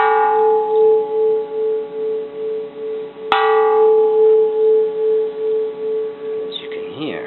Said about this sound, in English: You can still get quite a good sound out of it.